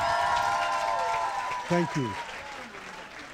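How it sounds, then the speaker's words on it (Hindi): Audience applause at a literature festival session on cinema, starting under a speaker's voice and fading, with a brief 'thank you' spoken near the middle. "एक बहुत ज़्यादा लंबी ताली उनके लिए"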